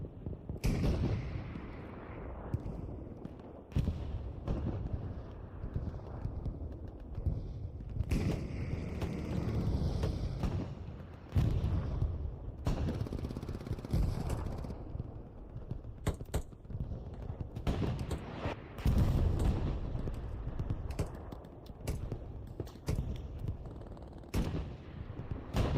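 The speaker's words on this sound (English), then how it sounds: "Russian rockets coming in on the point." Russian rocket artillery strikes in Hell Let Loose on the Kharkov map: a long run of heavy booming impacts and rumbling explosions, some close and loud, overlapping one after another.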